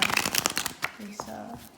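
Tarot cards shuffled close up, a quick run of riffling flicks that gives way to quieter card sounds, while a person talks over them.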